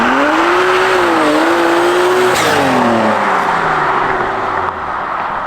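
BMW 135i with a DCT gearbox passing by loud and close, a strong engine drone that rises then sweeps down in pitch as it goes past, with a brief tire screech near the middle.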